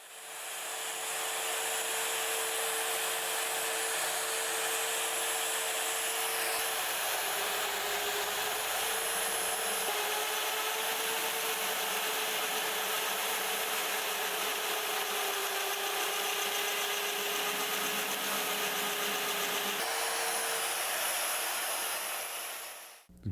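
An Evolution EvoMag42 magnetic drill runs a 1-inch bit through 1/4-inch steel with cutting oil. It gives off a loud, steady motor whine with a grinding cut underneath, continuous throughout and stopping at the very end.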